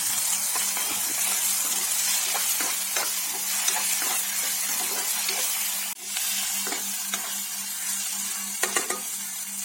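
Onion and tomato paste sautéing in a pan for a Tamil kuzhambu, with steady sizzling and frying hiss broken by frequent stirring scrapes and clinks of a utensil against the pan.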